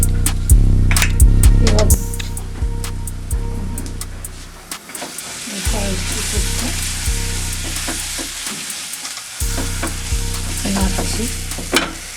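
A spatula scrapes and stirs a green pea filling in a pan while it sizzles and fries steadily underneath, the metal strokes coming in a regular rhythm.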